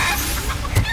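A chicken in the Hogwarts Legacy video game clucks in short, loud bursts over a steady game background, all within one second.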